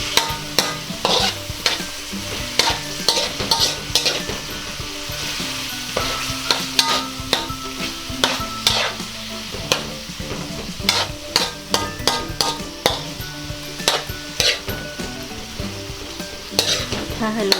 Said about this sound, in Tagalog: Hahaluin lang natin to hanggang sa maluto yung ating beef